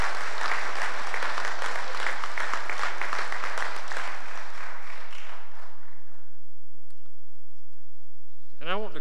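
Congregation applause at a church service, a full burst of clapping that fades out over about six seconds into near quiet, followed by a brief rising electronic tone.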